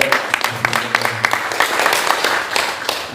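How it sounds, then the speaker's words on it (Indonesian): A seminar audience breaks into applause for a speaker, a dense, loud burst of many hands clapping that holds steady throughout, with a faint voice underneath. "Kita berikan aplaus untuk Bapak Datuk."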